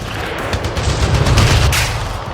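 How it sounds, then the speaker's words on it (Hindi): Dense gunfire effect, a rapid continuous fusillade of shots with deep booming undertones, heard up close and loud with no voices, from a sand art film about the 1971 war with the Indian Army firing on enemy trenches. "लगातार दुश्मन के ट्रेंचेस पर कारगर फायर गिराते हुए आगे बढ़ने लगे"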